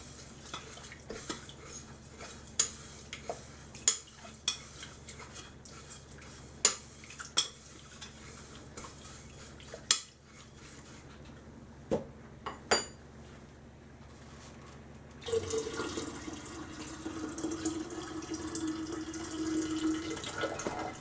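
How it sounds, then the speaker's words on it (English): Hot distilled water rinsing silver crystals during refining: a series of sharp glassy clinks and taps over a quiet background, giving way near the end to a steady running, splashing wash of water. "So we're using hot distilled water to rinse these crystals off."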